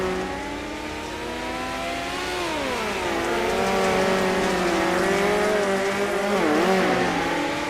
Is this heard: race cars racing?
yes